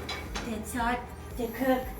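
A few metal clinks and scrapes of a pan and utensils, close up, in a short burst with some faint speech-like sounds.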